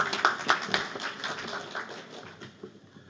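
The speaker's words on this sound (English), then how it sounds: "Yes, that deserves its own applause." Scattered applause from a small audience at an Asian American Pacific Islander Mother's Day celebration, with a few distinct claps standing out at first before the clapping tapers off and fades within a few seconds.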